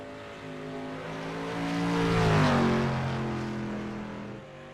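A dirt street stock race car laps Knoxville's dirt oval, its engine note swelling as it approaches, peaking loud up close and fading as it pulls away, heard alone without talk.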